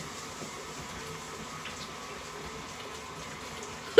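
A kitchen mixer running at low speed, churning no-bake cheesecake mixture into a thick paste, giving a steady, even, wet, sloppy whirring that holds throughout, with a brief louder knock at the very end.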